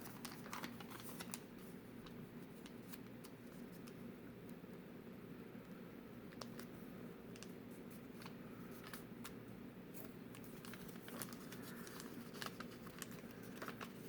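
Paper is folded for origami, a steady run of soft, crisp creases and rustles close by, faint against a quiet background hiss.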